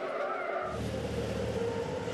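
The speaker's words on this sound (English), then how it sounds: "You can hear tyres screeching and screaming for mercy." Race trucks on the Zolder circuit, tyres screeching under hard cornering during qualifying, a sustained high squeal over engine roar that swells in after a brief quieter start.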